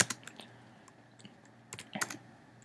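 Computer keyboard keys tapped in short irregular bursts while entering code for a Minecraft 1.7 mod, close and fairly quiet, with pauses between clusters of keystrokes.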